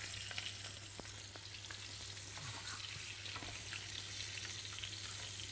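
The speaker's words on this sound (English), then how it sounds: "continue frying that garlic with the lamb" Steady sizzling of lamb and garlic frying in a hot pan, with occasional pops and light scraping, no talking.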